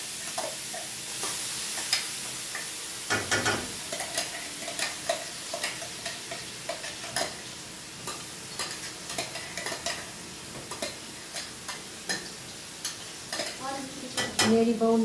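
A mixture frying in very hot oil with asafoetida, a steady sizzle punctuated by regular scraping strokes of a spoon against the pan, close and fairly loud throughout.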